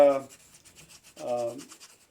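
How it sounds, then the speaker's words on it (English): Paper taped over the temple of an engraved gun is rubbed to make a rubbing, giving rapid rhythmic scratchy strokes close by, broken by two brief tonal humming sounds. "we have mounted a piece of paper on the table, and Mike has started doing the temple rubbings here"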